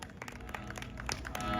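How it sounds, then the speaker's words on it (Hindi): An audience claps together at an annual Saang folk performance event, a brief, fairly faint patter of many hands with a slight swell toward the end. "के लिए एक बार ताली बजा दे सभी।"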